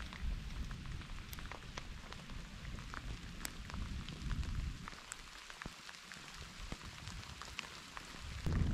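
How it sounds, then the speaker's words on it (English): Heavy thunderstorm rain pours steadily at a wilderness campsite in the Boundary Waters, a dense close hiss of drops on surfaces with scattered sharp drips, continuous and loud with no talking. "The lightning lit up the sky and it rained incredibly."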